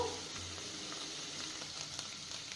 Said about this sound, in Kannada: ಇದನ್ನ ಒಂದು ಎರಡು ನಿಮಿಷ ಹಂಗೆ ಫ್ರೈ ಮಾಡಿಕೊಂಡ್ರೆ ಸಾಕು ಚೆನ್ನಾಗಿ ಫ್ರೈ ಮಾಡ್ಕೋಬೇಕು